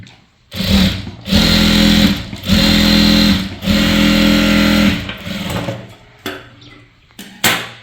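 A sewing machine runs close and loud, stitching a seam on chudithar pants in three steady bursts of about a second each, then slows into shorter stops and starts with clicks of handling.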